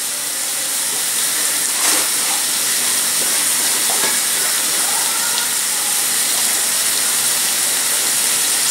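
Chicken curry cooking over a slow flame, a loud steady hiss and sizzle with a few small clicks and scrapes, no voices.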